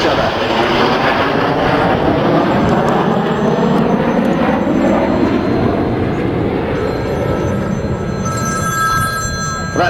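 Red Arrows BAE Systems Hawk T1 jets in a close-formation flying display roar steadily overhead, a loud continuous broadband engine rush that sweeps in pitch and holds throughout.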